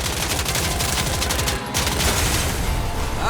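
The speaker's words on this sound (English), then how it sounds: "Don't stop firing." Sustained rapid gunfire in the anime-styled open-world video game Ananta, a dense, loud and unbroken barrage of shots running the whole time with only a tiny dip partway through.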